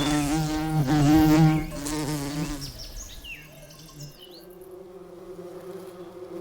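Bumblebees buzz around wolfsbane flowers in a Bavarian mountain meadow, a loud close drone with wavering pitch that fades as the insects move off, then a fainter, steadier hum continues.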